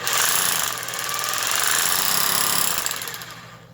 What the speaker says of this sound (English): starts making that heavy metal clanging sound